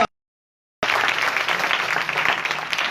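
Dense, loud applause from a crowd at an outdoor street revival meeting, breaking in abruptly after a short silence and carrying on steadily to the end.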